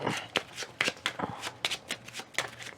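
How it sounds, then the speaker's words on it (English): A deck of cards for the Chocolate Factory board game is shuffled by hand at a table, a close run of quick riffling bursts and soft slaps in an uneven rhythm. "We'll shuffle these up."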